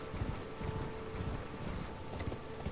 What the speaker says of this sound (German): Hier drumrum reiten